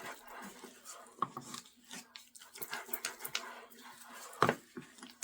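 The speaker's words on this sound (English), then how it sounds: "That is my dog you hear playing with his ball in the background." A dog plays with his ball in the background during home cooking, making soft, scattered scuffles, taps and snuffling bumps that stay faint and distant throughout.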